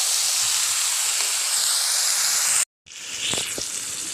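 Eggplant and potato frying with spices in a pan, a loud, steady sizzling hiss that cuts out briefly and resumes with faint clinks of stirring.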